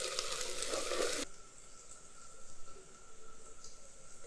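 Onion frying with ginger garlic paste in a pot for sambhar gives a loud, dense sizzle for about a second, then drops to a quieter, steady hiss.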